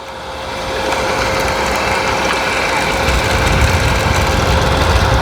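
A homemade electric bike driven by sewing machine motors and fitted with a 36-tooth sprocket runs with a steady, loud mechanical whine over a low rumbling hum, holding the same pitch throughout.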